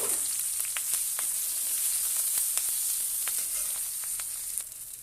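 Five-spice tempering with chilli and onion fries in hot oil, a steady bright sizzle with scattered sharp crackles and pops throughout, close and continuous with no talking.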